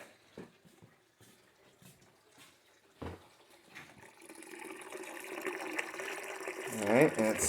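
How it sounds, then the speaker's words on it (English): Water pours into an indoor cistern refilling after a freeze, a rising steady rush of filling water that builds over several seconds after a few quiet knocks and scattered sounds at the start. "that is now filling the indoor cistern"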